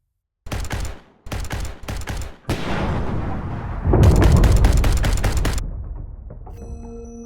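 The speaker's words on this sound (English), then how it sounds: "The jungle becomes a battlefield as blaster fire cuts through the thick foliage." Bursts of blaster fire crackle in rapid volleys, then heavy explosions boom and rumble in a jungle battle, loud and close, fading toward the end with a faint electronic tone.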